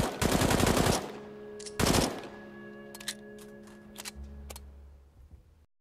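Gunfire erupts as German soldiers fire on a rabbit hutch: a loud, dense rattling burst, then a second short blast, trailing into scattered sharp cracks over a low hum, with no voices.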